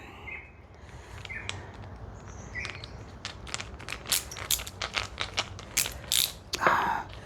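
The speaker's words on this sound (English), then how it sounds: "I try with a reciprocating screwdriver, you have to keep changing it, but they are handy" A reciprocating ratchet screwdriver drives screws during bathroom repairs, quick bursts of sharp clicking ratchet strokes that grow denser and louder toward the end, close and alone.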